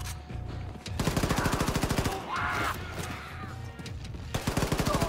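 Gunfire in the Wolfenstein II video game: loud bursts of rapid automatic shots in quick rhythmic trains, with a short lull in the middle before firing resumes.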